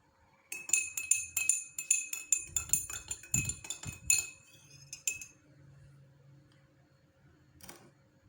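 A spoon clinks rapidly and repeatedly against a glass while stirring syrup into warm water, bright metallic taps in a busy rhythm that slows and fades, followed by a quieter stretch with one last clink.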